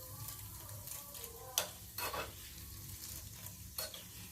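Garlic, chana dal and urad dal fry steadily in hot oil with a soft, continuous sizzle, broken by a few sharp clinks and scrapes of a spoon stirring the pan, up close and with no talking.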